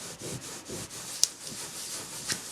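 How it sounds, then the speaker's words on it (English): Blue ink is rubbed off embossed paper by hand, a soft rhythmic scrubbing of several strokes, faint and close, with a couple of tiny ticks. "you're just rubbing that blue ink off of there and leaving the nice white flowers"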